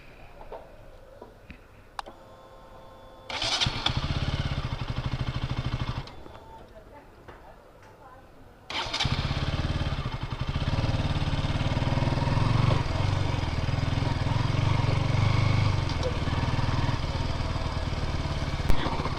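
A motorcycle engine starts and settles into a steady idle before a ride, with a short burst of running, a pause, then continuous close idling and ticking.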